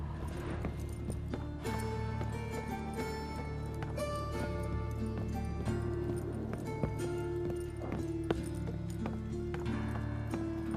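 Rhythmic clip-clop of horse hooves galloping in the video game The Witcher 3, steady and fairly loud, layered over a busy musical backdrop with no talking.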